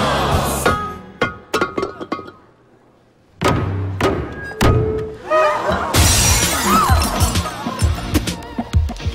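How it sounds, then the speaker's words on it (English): At an Italian wedding celebration, the maid of honour smashes a vase, giving a sharp loud shatter followed by scattered crashes and clatter of breaking pieces, with crowd voices and cheering around it. "The maid of honor shatters a vase, and it symbolizes happiness for the bride and groom."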